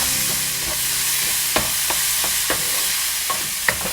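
Tomatoes tipped into a hot pan for beef afritada and stirred while frying, with a steady sizzle and a few sharp utensil scrapes and clicks against the pan, no voices.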